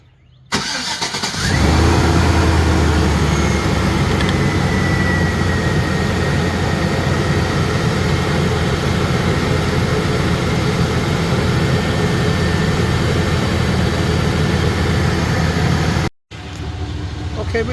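A car engine is cranked and catches, then idles steadily and loudly at close range with a constant mechanical drone for many seconds before cutting off abruptly.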